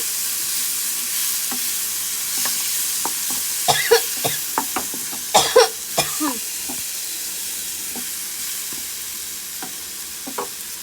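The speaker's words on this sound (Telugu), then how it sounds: "వేసేసుకొని బాగా కలుపుకోవాలి. చూసారు కదా ఎంత బాగా కలుస్తూ ఉందో, ఇలా కలవాలండి." A spoon scrapes and stirs mango pulihora rice mixture in a pan over a steady frying sizzle, with soft irregular clinks and scrapes close by.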